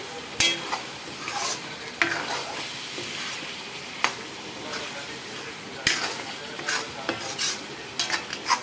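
A spiced mixture sizzles and fries in a pan for a Banjara-style dish, with steady crackling broken by periodic sharp scrapes and clinks of a spoon stirring against the metal, close and moderately loud.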